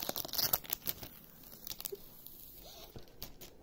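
Protective wrapping peeled off a Maxton Design spoiler lip for a Ford Fiesta ST180, giving close, quiet bursts of crinkly tearing and crackling that come irregularly, then thin out toward the end.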